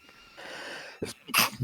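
A single sharp sneeze bursts out near the end, preceded by a short breathy intake and a quieter sound.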